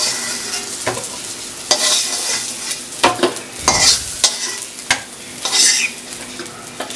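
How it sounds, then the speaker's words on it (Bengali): Eggs frying in a little oil in a pan while being lifted out one at a time. Steady sizzling runs throughout, broken by sharp clinks and scrapes of a utensil against the pan. "আমার ডিম অল্প তেলেই আমি ভেজে নিয়েছি। এখন জাস্ট নামিয়ে নিচ্ছি।"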